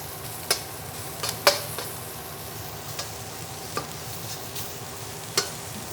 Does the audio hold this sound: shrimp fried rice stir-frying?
yes